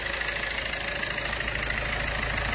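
A 2016 Maruti Suzuki Ciaz engine idles at close range under an open bonnet, a steady, even hum with no revving and no voices.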